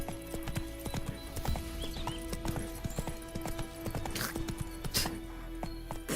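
Roach, Geralt's horse in the video game The Witcher 3, gallops with rapid, rhythmic hoof clip-clops, loud and close, while faint tonal game music runs underneath.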